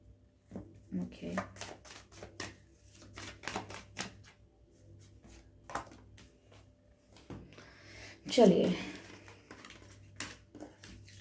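Tarot cards are shuffled close by in a series of quick, crisp riffles and slaps, with a fuller burst of shuffling near the end.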